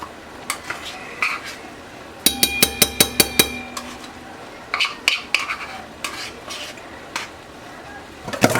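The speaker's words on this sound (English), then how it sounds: "And then we'll give this a good whisk." Whisk clattering rhythmically against a bowl while tomato paste is worked into stock with dried thyme, a fast burst of sharp metallic taps followed by scattered scraping clinks, close and loud, with no talking.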